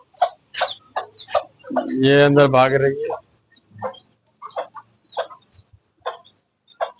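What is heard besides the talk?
hen clucking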